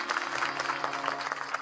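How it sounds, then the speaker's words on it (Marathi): A kirtan audience claps for the young performers, a brief steady patter of many hands heard amid a hall with a sustained musical drone underneath. "या पोरांसाठी एकदा टाळ्या वाजवा नाही,"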